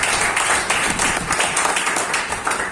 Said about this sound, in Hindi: उनके लिए भी हम लोग एक बार जोरदार तालियां बजा सकते हैं